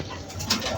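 Pigeons coo on a rooftop where a chick has just hatched, a soft, close, continuous murmur with a slightly louder swell near the end and no voices.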